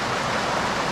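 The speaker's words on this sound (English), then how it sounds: "Oh, I love a good weir. The mini waterfall, some of you might call it" Water pours steadily over a small river weir, a mini waterfall, giving a dense, even rush of broadband noise that runs without a break and with no voices.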